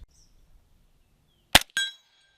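Two sharp gunshots from a rifle firing 300 Blackout subsonic ammunition through an 8-inch barrel, close and loud, the second report followed by a ringing metallic tail after a quiet lead-in.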